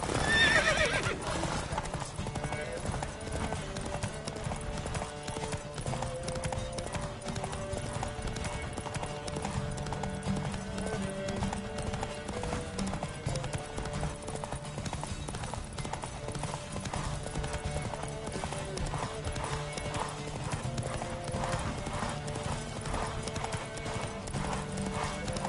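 Rapid clip-clop of several galloping horses in a horse race in the video game Witcher 3, with an occasional whinny, steady and loud beneath a continuous musical score throughout.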